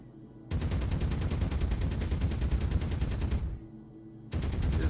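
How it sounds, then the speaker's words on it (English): T3 Gatling gun in a video game firing rapid continuous bursts against light armor, a dense rattling stream of shots in two close, loud volleys separated by a brief pause. "This is a T3 Gatling versus..."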